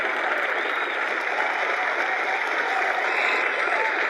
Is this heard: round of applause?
yes